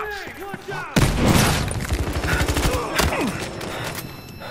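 Gunfire in a multiplayer shooter game on a map called The Block, with a loud sustained burst of rapid automatic shots, then a single heavy crack, all under excited player chatter.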